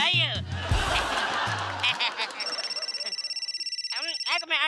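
A telephone ringing in a Hindi TV comedy serial, a repeated trilling electronic ring following voices and a brief musical sting.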